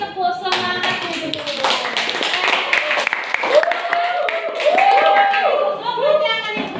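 A class audience at a guidance and counseling group presentation claps together in a lively, rhythmic pattern, close and fairly loud, with voices calling and talking over the claps.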